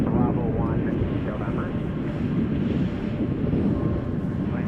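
United Boeing 787 Dreamliner at Chicago O'Hare, a steady broad jet roar taxiing toward the terminal, with wind noise and someone talking over it.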